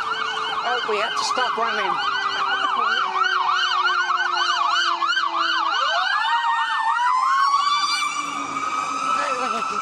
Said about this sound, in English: Here come the fire brigade.